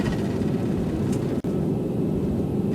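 An Airbus A321 in X-Plane 11 applies reverse thrust during its landing rollout, with a steady, loud engine roar filling the cockpit and one brief dropout partway through.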